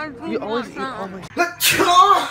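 A sneeze bursts out loudly near the end, following a stretch of casual talk between a few people, with a voice still present around it.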